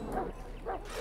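A dog in the video game Dragon Age: Origins gives two quick yipping barks, fairly close and moderately loud, about half a second apart.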